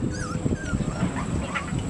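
Puppies whimpering and yipping in a busy cluster, high thin cries overlapping amid shuffling noise, close by.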